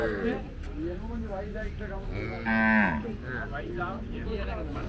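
Cattle lowing at a Palayakottai country cattle market, several moos with one loud, drawn-out bellow near the middle, heard over steady crowd chatter and people talking nearby.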